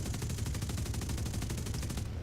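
A rapid, continuous burst of machine gun fire in the War Thunder video game, evenly spaced rounds rattling for about two seconds before stopping abruptly.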